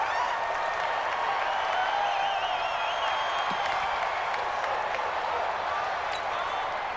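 Continuous stadium crowd roar at a Chiefs football game in the video game Madden 20, a steady, fairly loud murmur that holds evenly, with faint whistling tones drifting through.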